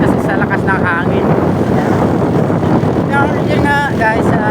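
Strong wind roars and buffets the microphone outdoors among trees, with someone talking over the steady, loud gusting.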